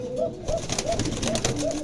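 English Tumbler pigeons coo in a steady rhythm of about five rising-and-falling calls, close and clear over light background noise.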